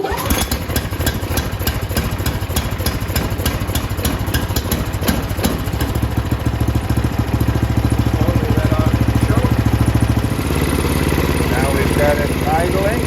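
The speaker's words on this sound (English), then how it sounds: "Got it idling" A snow blower engine idles steadily outdoors after a primed, choked start, a loud continuous low chug that runs throughout and shifts to a slightly different pitch near the end.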